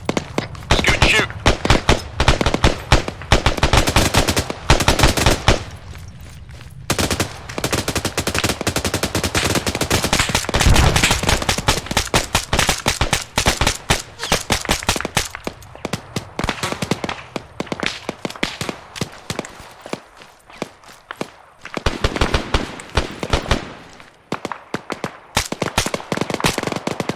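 Rifle and machine-gun fire in ArmA 3, loud dense bursts and rapid volleys almost continuously, with a few short lulls and heavy clustered shots near the middle.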